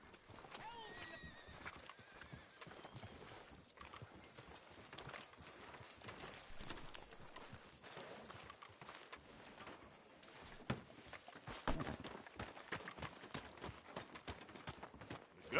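Horse hooves clip-clop steadily on a town street in Red Dead Redemption 2, with an occasional whinny and jangling tack, continuing at a moderate distance beneath spoken dialogue.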